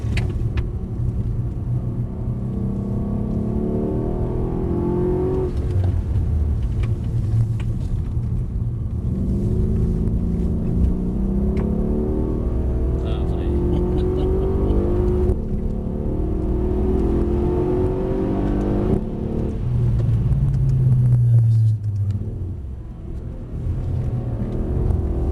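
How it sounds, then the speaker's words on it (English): A car accelerating with a little wheel spin, engine rumbling and whirring steadily up close for the whole stretch, pitch rising and falling as it pulls away. "A little bit too heavy there and you get a little bit of wheel spin"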